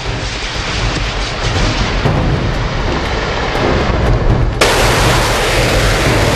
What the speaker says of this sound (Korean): 굉음과 함께 불을 뿜으며 날아오는 신기전은 적에게서 공포 그 자체였다